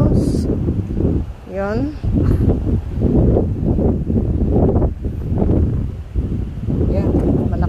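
Strong wind buffeting the microphone outdoors in Macau, a loud continuous rumble and roar with gusts, as a person speaks briefly over it.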